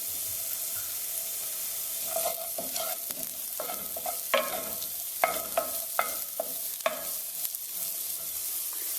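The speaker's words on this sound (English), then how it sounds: "In our hot pan, we're just going to put a little bit of cooking oil in here." Onions fry in cooking oil in a hot pan with a constant bright sizzle, and spatula clicks and scrapes come through as the pieces are pushed around.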